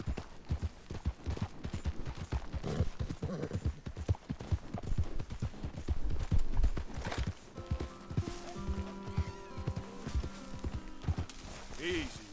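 Horse hooves clip-clop in a steady, rapid rhythm while riding in Red Dead Redemption 2, with a whinny and someone talking over the galloping; game music and ambient tones rise in the second half.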